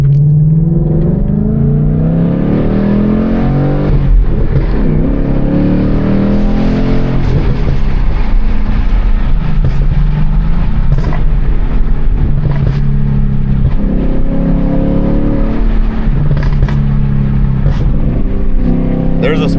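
A Ford Mustang GT (S650) with a ghost cam tune and closed exhaust valves revs hard again and again, the engine pitch sweeping up and falling back over a loud, close, continuous rumble.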